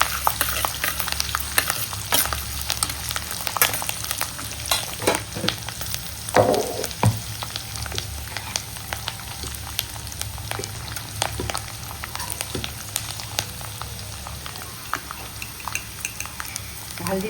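Turmeric and salt being stirred into lemon rice in a pan over a low flame, with a steady background sizzle and scattered scraping strokes of a spoon against the pan.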